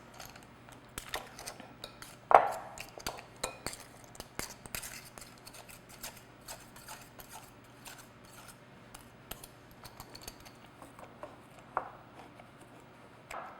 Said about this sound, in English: mix the butter into the flour until it's like the mixture looks like coarse crumbs